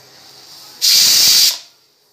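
A pressure cooker roasting peanuts gives one loud, steady steam whistle that hisses for under a second and then tapers off.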